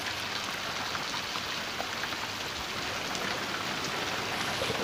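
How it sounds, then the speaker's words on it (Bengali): Steady rain falls in Murshidabad after a heatwave, an even, moderately loud hiss of drops on surfaces that continues unbroken and with no voices. "সেখানে স্বস্তির বৃষ্টি।"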